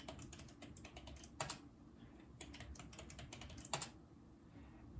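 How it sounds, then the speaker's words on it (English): Typing on a computer keyboard while entering a password during a Gentoo Linux install on a Raspberry Pi: a steady run of quiet, close key clicks, with a few louder, sharper strikes standing out and no talk. "we're just going to type demo user."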